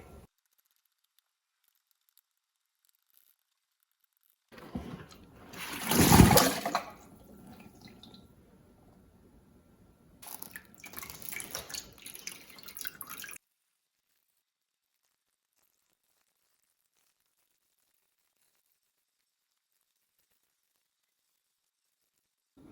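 Homemade Korean makgeolli from jar B dripping and trickling through a filter, a wet patter swelling briefly, then a second shorter stretch of dripping and rustling, with long near-silent gaps.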